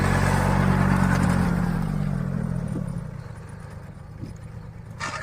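A tractor engine runs close by at a mango farm, a loud, low, rumbling drone with some mechanical clatter that gradually fades and thins over several seconds.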